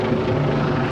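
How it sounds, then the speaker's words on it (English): Helicopter passing overhead, a loud, steady, thick rotor drone with low chopping texture that fills the whole moment with no talk over it. "it's a rude helicopter."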